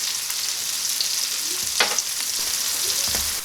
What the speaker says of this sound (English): I'm going to saute these for about 5 to 7 minutes.